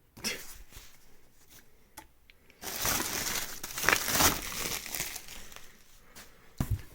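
An empty paper envelope is handled close up, its paper crinkling and rustling steadily for several seconds, louder in the middle and ending with a soft tap.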